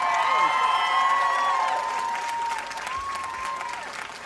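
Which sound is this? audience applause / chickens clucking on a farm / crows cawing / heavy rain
audience applause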